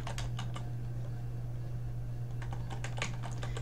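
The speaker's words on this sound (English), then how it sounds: "I will get in my search box and I can type in self-efficacy" Someone types a search on a computer keyboard: two short flurries of crisp key clicks, close and clear, separated by a quiet gap with a low steady hum underneath.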